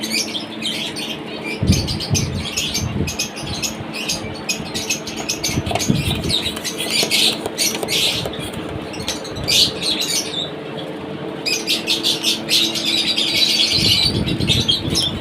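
Caged birds hanging on wire mesh squawk and chirp while being showered with water. A steady hiss of spray runs underneath throughout, with wing flutters and sharp calls rising over it at close range.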